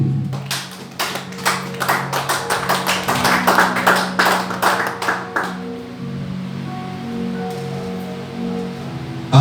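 A church congregation claps in a steady, quick rhythm for about five seconds, close and fairly loud, then the clapping stops and quiet room tone with a faint hum remains.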